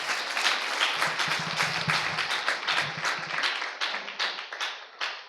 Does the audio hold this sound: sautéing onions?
no